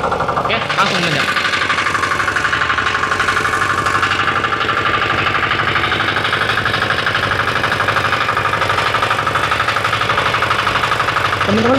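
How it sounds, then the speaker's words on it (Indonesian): A first-generation tractor engine labouring uphill in first gear, a loud, steady mid-pitched chug with a constant knocking vibration that runs the whole length without letting up. "Oke, sekarang kita akan praktekkan gen 1 untuk menanjak."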